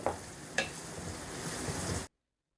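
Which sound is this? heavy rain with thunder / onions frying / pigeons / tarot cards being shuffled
onions frying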